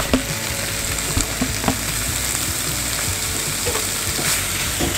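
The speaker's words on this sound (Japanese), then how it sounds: "お肉も一緒に入れてソテーしていきます。" Meat sautéing in a pan with onions cooked to a deep caramel colour gives a loud, steady sizzle broken by scraping stir strokes and soft clinks, heard up close with no talk.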